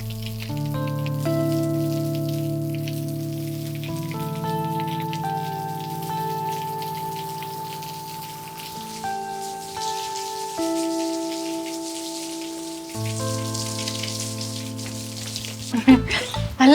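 Steady rain falls as a soft, even hiss behind sustained music notes in a Malayalam comedy sitcom scene, continuing without talk for the whole stretch.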